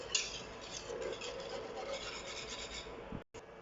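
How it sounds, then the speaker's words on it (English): A spoon scrapes and rasps steadily around a pot of cheese grits, a continuous close stirring texture with a short break near the end and no voices. "Just carry on mixing this for 5 minutes."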